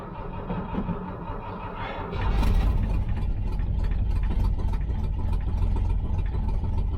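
A Toyota FJ40 Land Cruiser with a carbureted engine, cold and with a stuck choke, catches and settles into a steady, rumbling idle after a couple of seconds of quieter background noise.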